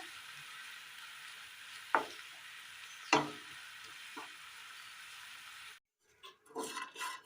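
Chopped peeled tomatoes sautéing in a pan give a soft continuous sizzle broken by two sharp spoon scrapes and a lighter stir. The sizzle then cuts out and a few clinks and handling noises follow, close-up with no talking.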